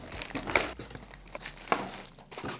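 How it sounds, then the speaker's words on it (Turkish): Packaging crinkles and rustles as the box of a RoboLaser robot vacuum cleaner is emptied, with irregular crumpling bursts close by and quiet gaps between handling sounds. "Şöyle kutuyu boşaltalım."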